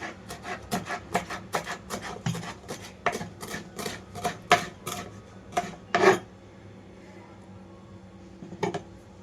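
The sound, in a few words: chopping coriander leaves for tomato chutney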